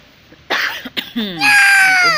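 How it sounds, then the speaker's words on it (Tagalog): A couple of short, harsh coughs followed by a high, drawn-out whining cry, close and fairly loud. "May ubo."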